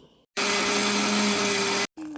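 A countertop blender whirs loudly and steadily for about a second and a half as it purées canned tomatoes for a chicken salsa, starting and stopping abruptly with quiet kitchen sounds around it.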